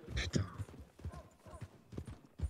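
Horse hooves clip-clop in a steady rhythm while riding in a video game, close and moderately loud beneath intermittent talk in French.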